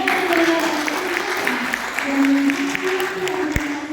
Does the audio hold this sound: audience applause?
yes